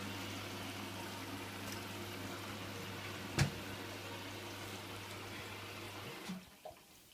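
A Hotpoint washing machine set to normal wash begins filling, giving a steady low hum with running water underneath, one sharp click partway through, and a few faint knocks as the drone cuts off near the end.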